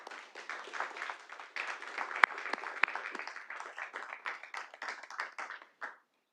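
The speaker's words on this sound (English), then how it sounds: "Give them a round of applause." An audience at a Little Rock city Board of Directors meeting gives a round of applause, a crowd clapping steadily for about six seconds with a few sharper claps standing out before it stops abruptly.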